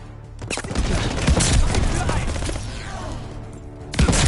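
A dense burst of rapid gunfire and booming explosions in Call of Duty: Vanguard fills the clip, loud and continuous, with a final blast at the end.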